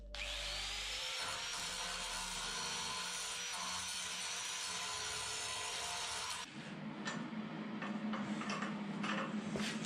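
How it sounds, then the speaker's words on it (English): An angle grinder grinds thin car body metal on a Mazda 323 BG under restoration, producing a loud continuous whine for about six seconds, then switching to a rougher, scratchier grinding texture until the end. "Now I need to grind it out a little bit"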